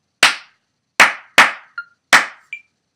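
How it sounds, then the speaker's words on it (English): Four sharp hand claps in an uneven rhythm, close and loud against silence, with a small ringing tone after the later claps. "now I'm going to clap it without the counts"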